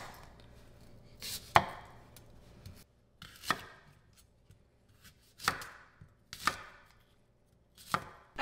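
A knife cuts bug-damaged parts away from a harvested apple, with five or six separate sharp chopping strikes against a board, spaced about a second apart in an otherwise quiet room.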